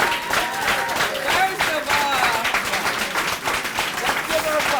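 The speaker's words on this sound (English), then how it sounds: "let's give her a clap." A crowd at a National Congress of Black Women event claps for a Purple Heart recipient who served in Iraq. The applause is dense and continuous, mixed with cheers and voices throughout.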